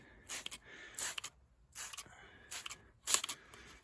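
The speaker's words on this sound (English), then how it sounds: "we're gonna do a few light sprays" Several light pumps of a spray bottle misting upholstery cleaner onto fabric, four or five short hissing bursts spaced about a second apart, close and fairly quiet with nothing else around them.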